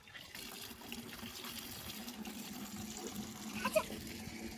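Water runs into a bucket on a rooftop, a faint, steady trickle and splash that holds through the whole stretch, with a brief louder splash near the end.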